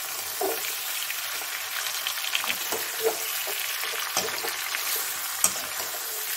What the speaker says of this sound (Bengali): নাড়ছি ভালো করে।